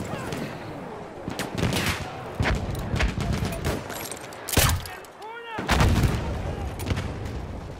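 Battlefield 1 artillery and gunfire on the Somme battlefield in Rush mode, a series of sharp loud blasts and cracks spread irregularly across the clip, with near and distant impacts layered over battle ambience.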